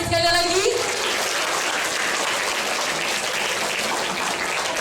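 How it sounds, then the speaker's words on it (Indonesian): Audience applause after a theatre performance of a play, with a brief voice at the very start, then continuous dense clapping from a large crowd filling the rest. "Boleh minta tepuk tangannya sekali lagi?"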